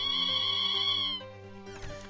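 A cartoon cat in the video game Desktop Survivors 98 gives a clear, high, drawn-out meow when petted, followed by a shorter second mew, close and alone.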